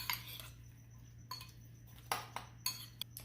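Ingredients for chicken quesadilla pico de gallo are stirred in a bowl: a few faint, sharp clinks and taps of a utensil against the dish, irregularly spaced over a quiet background hum.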